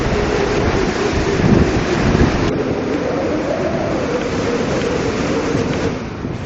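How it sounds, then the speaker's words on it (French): Strong, steady 40-knot wind roars across open sea with heavy wash and spray, a loud continuous rush that swells and eases without pause. "40 nœuds de vent."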